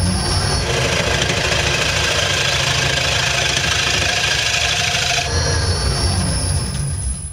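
A wood lathe spins a square bowl under light, gentle cuts, with a continuous whirring drone and a stretch of louder, brighter scraping in the middle before easing back.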